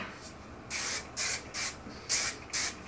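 Hair styling product sprayed onto curled hair from an aerosol can, five short hissing bursts in an even rhythm with brief pauses between, close to the microphone, no talking.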